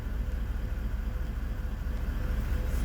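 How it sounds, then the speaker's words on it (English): Electric thermo fans whir steadily under the raised bonnet of a near-new Toyota Land Cruiser V8 diesel, a constant broadband rush of air with a low hum beneath, unbroken throughout. "You can hear the thermo fans working in the background there."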